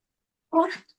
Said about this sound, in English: Do you hear my dog barking?